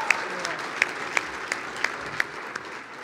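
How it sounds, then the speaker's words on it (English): A luncheon audience at a Girls and Women in Sports event applauds Crest Hill Middle School athletes: steady, moderately distant clapping across the whole stretch, with a few sharper individual claps standing out. "Let's give a round of applause to our Crest Hill Middle School athletes"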